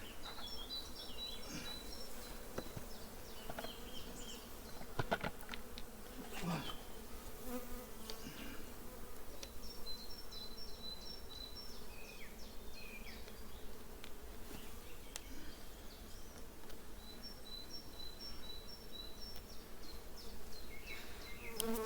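Honeybees buzz steadily at a beehive, a dense continuous hum close by, with a few faint chirps and small knocks at the hive.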